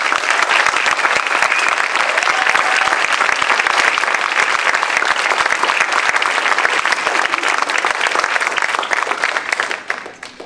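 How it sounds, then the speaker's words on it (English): An audience at a university celebration event gives a loud, dense round of applause that carries on steadily for about ten seconds before starting to taper off. "join me in a rousing round of applause for an incredible leader and coach, Kathy Cox"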